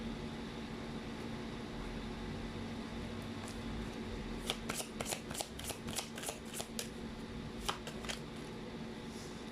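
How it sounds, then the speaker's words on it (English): Tarot cards being shuffled at close range, a burst of crisp riffling flicks that starts midway and comes in quick irregular runs over a steady low room hum, with no talking. "so let's pull up more cards."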